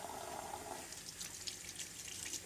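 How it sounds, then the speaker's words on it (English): Cold tap water runs steadily into a sink, rinsing leftover dye off an action figure, with a continuous close splashing hiss and brief spattering bursts. "all you have to do is just rinse it off with cold water"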